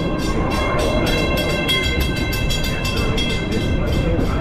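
The Magic Kingdom railroad train rolls past in a loud, continuous rumble with rhythmic wheel clatter and metallic squeal, steady from start to finish.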